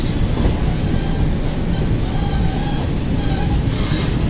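Passenger train bound for Vijayawada rumbling steadily along the rails, a dense, continuous low roar with faint tonal whine, loud and close throughout with no talking.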